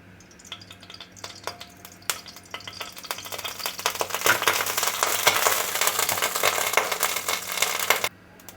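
Mustard oil heats in a hot wok and sizzles, starting with scattered crackles and pops. It builds into a dense, loud frying hiss that stops abruptly near the end, with no voices.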